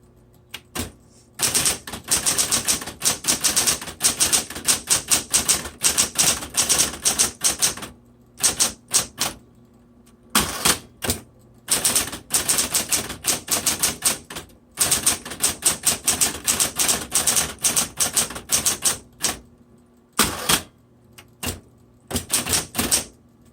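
A 1960s SC Coronet Auto typewriter typed steadily in bursts of rapid, sharp keystrokes with brief pauses between runs, close and loud with no voices.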